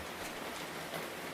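Steady rain falling on a Paris balcony at night, a soft, even hiss of drops with no pauses, faint and close.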